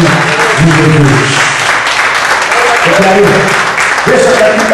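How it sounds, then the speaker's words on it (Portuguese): A church congregation claps loudly and continuously in praise during a worship service, with a voice speaking over the applause throughout. "E você que crê, aplauda o Senhor Jesus, em nome de Deus."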